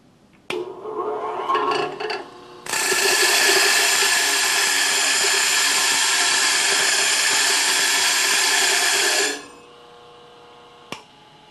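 A stone dresser cleans embedded aluminum off a spinning grinding wheel in a machine shop. It makes a loud, harsh, continuous grinding rasp for about seven seconds that stops abruptly, with brief scrapes before it and a small tap after.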